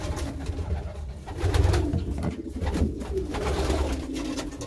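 Racing pigeons coo nearby in low, repeated throaty calls, overlapping and rising in volume at moments, with a soft background hum.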